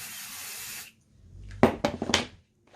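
A spray bottle misting fabric for an embroidery hoop gives a short hiss, followed after a pause by several close knocks and rustles as the material is pressed down.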